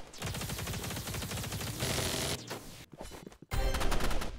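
Minigun firing in the video game Marvel Rivals, a rapid loud rattling burst of shots, a brief gap and stutter, then heavy firing resuming.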